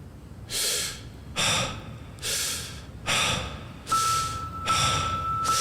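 Heavy rhythmic breaths opening a song, six long loud inhales and exhales spaced evenly, with a faint steady tone entering partway through.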